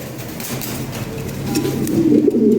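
European Lahori Sirazi pigeons of an original bloodline coo steadily in a loft, low rolling calls building louder toward the end over a constant background hum.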